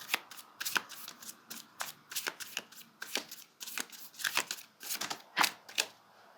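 Tarot cards are shuffled and drawn by hand, a series of quick, crisp riffling and slapping bursts in an irregular rhythm, close up and fairly quiet, with no talking.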